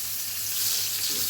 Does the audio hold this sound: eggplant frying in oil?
yes